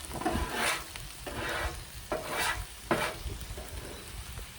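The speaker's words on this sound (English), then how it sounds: "As you can see, there is quite a bit of grease on this chorizo, so just kind of take your scraper and kind of scrape around it" A metal scraper working greasy chorizo on a Blackstone griddle, several rhythmic scraping strokes over a constant close sizzle.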